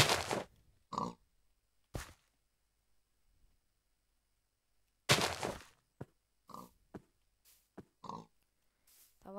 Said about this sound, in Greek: Θα βάλουμε το γουρούνι.